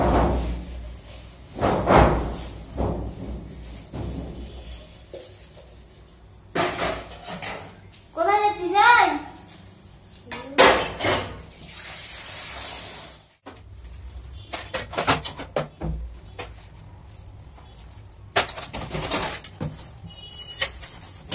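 Dishes, pots and pans being washed in a home kitchen, with scattered clinks and clatters coming at irregular moments under casual talk and a few other household noises.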